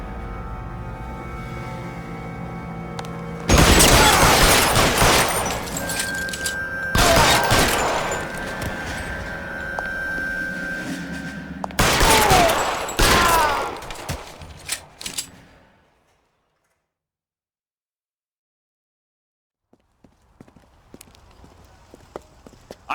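Rapid automatic gunfire in the game L.A. Noire, loud sustained bursts in several long volleys with echoing shots, then a sudden drop to silence before faint background sound returns.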